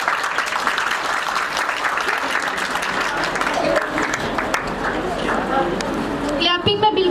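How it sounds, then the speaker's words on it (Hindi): A school audience applauds a student performance with steady, dense clapping that fills the whole stretch, voices mixed in and a few louder claps near the end. "क्लैपिंग में बिल्कुल कंजूसी ना किया करें।"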